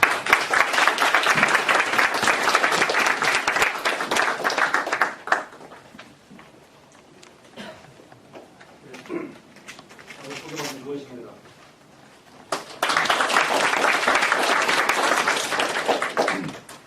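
An audience applauds a lecture speaker with loud, dense clapping for about five seconds. A quieter stretch with a voice follows, and then a second burst of full applause.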